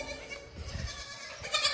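A goat bleats nearby, a short wavering cry and then a second brief bleat, fairly close over faint background noise.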